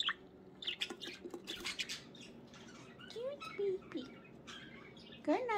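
A budgie squawks and chirps in short, scratchy bursts close by, with faint patter between calls, while a person talks softly over it.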